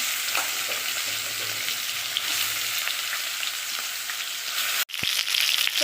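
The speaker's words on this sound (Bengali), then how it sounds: "দেখো এবারে দিয়ে দেবো মাছগুলো, একে একে দিয়ে দেবো আর ভেজে নেব।" Sardines fry in hot oil with a steady, close crackling sizzle and a few stirring scrapes. The sound breaks off briefly near the end, then the sizzle comes back.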